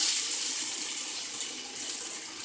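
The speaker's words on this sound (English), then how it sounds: "You can see that the gravy is starting to get into the rice, but you need to add a little water." Water poured into a pan of leftover rice and gravy, a steady bright gushing flow lasting throughout, close and moderately loud, no talking.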